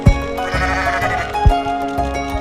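A goat bleats in wavering cries in the video game Goat MMO Simulator, over a busy synthetic backdrop with rhythmic low thumps, loud and upfront.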